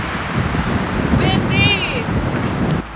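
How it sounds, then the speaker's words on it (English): Gusty wind buffets the microphone with a loud, rumbling roar throughout at the top of Lenox Crater near Flagstaff, Arizona, faint bird chirps breaking through in the middle. "Windy!"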